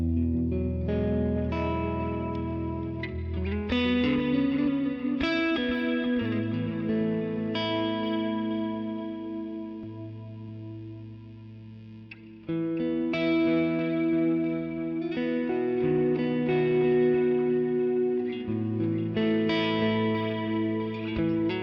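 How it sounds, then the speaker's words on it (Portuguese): Electric guitar run through an Ampero Mini with delay and reverb, sustained distorted chords and notes ringing out with echoing repeats and a lingering wash, loud and continuous with a brief dip before the playing swells again. "olha o que que o delay traz também nesse som"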